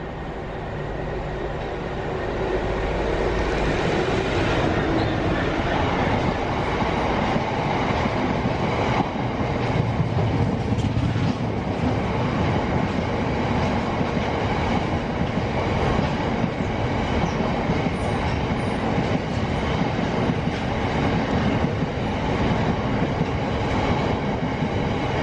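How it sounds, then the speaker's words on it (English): A long freight train rumbles past steadily, wheels clattering and rolling in a continuous loud roar that builds early and holds throughout. "This will be the last freight we shall see"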